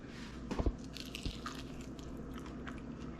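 Biting into a crispy air fryer chicken wing, a couple of close crunchy bites followed by soft wet chewing, quiet and alone.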